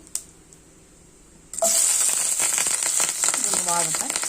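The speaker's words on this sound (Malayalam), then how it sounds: "പൊട്ടി വരുമ്പോൾ നമുക്ക് വെളുത്തുള്ളിയും നമ്മുടെ പച്ചമുളകും കറിവേപ്പിലയും കൂടെ ഇട്ട് ഒന്ന് വഴറ്റിയെടുക്കാം" Garlic, green chilli and curry leaves hit hot oil with popping mustard seeds, a sudden loud sizzle and crackle that erupts after a quiet moment and stays strong, with spattering and scraping mixed in.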